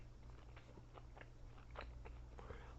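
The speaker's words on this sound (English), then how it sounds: "A lot of chewing." Teriyaki beef jerky being chewed, with a series of soft, close crunchy bites and mouth sounds spread across a few seconds, with no talking.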